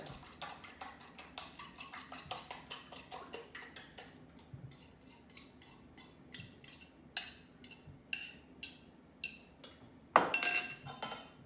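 A fork beats eggs in a bowl for a spinach and feta pie, giving quick, steady clinks and taps against the bowl in a close, fairly quiet run with a brief pause midway.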